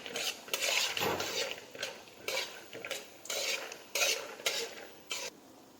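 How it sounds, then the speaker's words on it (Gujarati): Peanuts frying in hot oil in a pan while making Gujarati poha chevdo, with repeated stirring scrapes and clinks of a utensil against the pan over a soft sizzle, close and steady. "હવે આપણે તેલ લઈશું તેલ ગરમ થઈ ગયું છે એમાં આપણે સિંગને શેકી લઈશું"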